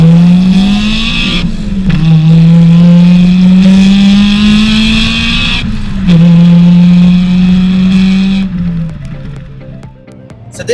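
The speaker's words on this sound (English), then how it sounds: "Listen to that VTEC." A Honda Accord Type R engine revs hard through its VTEC range, the pitch climbing steadily with two sharp gear shifts between pulls. The sound is loud and close and eases off at the end.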